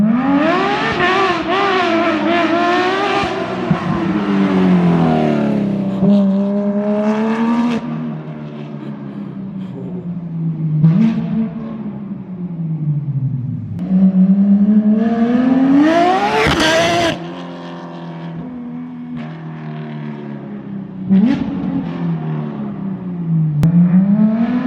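Porsche 991.2 GT3 RS engine, modified to sound like an RSR race car, revving hard in repeated loud sweeps that rise and fall, close and dominant with barely any talk.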